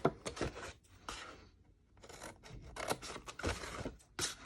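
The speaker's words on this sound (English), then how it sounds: "now take your scissors and just cut up all of the score lines" Scissors snip and slice along score lines in paper in a series of crisp, rasping cuts with short pauses between strokes, close up.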